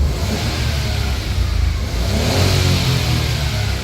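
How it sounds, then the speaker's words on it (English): A Nissan Micra under rebuild, engine running while its coolant is bled, revs up loudly and steadily with a sustained mid-range roar that swells and eases slightly, close by and with no talk. "So we can hear the wee car revving up"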